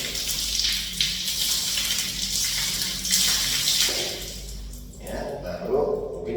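Water poured out to rinse away ritual impurity, a steady splashing gush over a surface, fairly close and continuous, with someone speaking over it and a faint dog-like sound.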